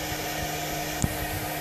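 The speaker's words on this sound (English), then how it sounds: "once you get it done, like that with the squeegee and the blow dryer" Steady, close whooshing roar of a blow dryer drying a wet-installed large decal, constant throughout with a tiny click near the end.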